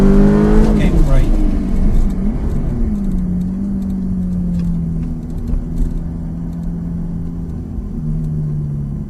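A Ferrari F430 sports car on a track day, its engine droning loud and steady close by with a brief rising rev at the start.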